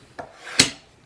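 A tool cuts into the clay wall of a hand-built coil pot, giving a faint scrape followed by a sharper, close rasping stroke that quickly fades.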